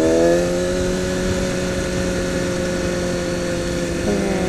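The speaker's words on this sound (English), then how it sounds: "Wow, that's a lot of traffic." Heavy street traffic sounds as a loud, steady engine drone with sustained tonal hum and rising revs, passing vehicles blending into one continuous roar close by, with no speech.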